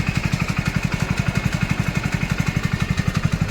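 Hero Splendor Plus BS6 motorcycle engine idling steadily after a general service with a timing chain change, its close, even low thump repeating fast and unbroken throughout.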